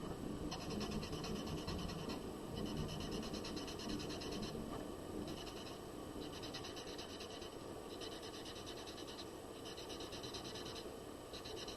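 Graphite is blended on paper with soft, repeated rubbing strokes that come in short rhythmic bursts separated by brief pauses, quiet and close over a faint steady background hiss.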